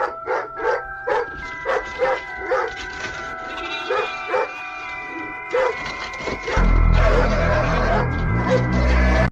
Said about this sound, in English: captured their German Shepherd frozen mid-bark, staring at the door while sheep huddled motionless behind it